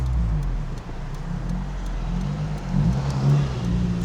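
Low engine drone of a motorcycle on Osaka city streets at night, rising gently toward the end as it picks up speed, steady and close throughout.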